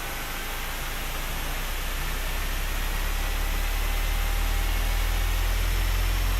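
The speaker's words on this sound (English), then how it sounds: "Alright, crew, starting engine number 2." Engine number 2 of a Boeing 737-600 in X-Plane 12 spools up as a steady broadband turbine whoosh over a low rumble, slowly growing louder, with no talking.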